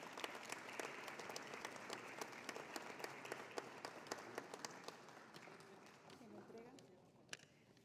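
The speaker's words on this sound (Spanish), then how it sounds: "el ingeniero Luis Armando Girón Rengifo, para quien pido un fuerte aplauso" Audience at a petroleum and gas industry award ceremony claps in a sustained round of applause, dense and steady before tapering off, with some voices audible underneath.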